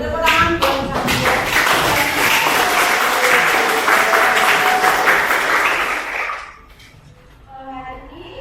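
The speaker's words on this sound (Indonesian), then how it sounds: "Tepuk tangan buat saya." Classroom of students clapping at the teacher's request, a loud, dense burst of applause lasting about six seconds before cutting off, followed by quiet voices.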